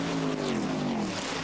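Race cars at the Le Mans 24 Hours 2000 pass with a loud, close engine roar whose pitch falls as they sweep by, lasting about a second and a half.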